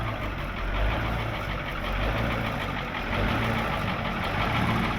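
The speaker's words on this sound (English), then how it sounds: "Ben came and fired up his ramp truck" Ramp truck engine running at a rough, steady idle, a low rumbling drone with slight knocking texture heard from a short distance, no talking.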